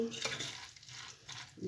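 Tuna cannelloni filling mixed with tomato coulis is stirred in a pan, producing a few soft scraping strokes with a faint sizzle in the background. No one speaks.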